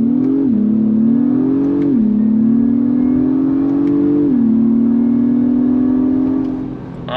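A 2023 Acura MDX Type S engine pulls hard on throttle, a loud, steady drone that climbs in pitch through several gear changes with brief dips between them, close and alone with no talk.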